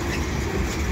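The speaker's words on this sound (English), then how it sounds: "There is the end of the train." Steady, dense rumble of a passing freight train, continuous and fairly loud throughout with no breaks or voices.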